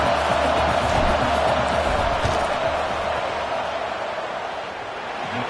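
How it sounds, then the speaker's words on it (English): A stadium crowd at a football game makes a steady loud roar as a field goal attempt is lined up. The wash of sustained noise fades slightly toward the end. "This crowd trying to do its part to get inside the kicker's head."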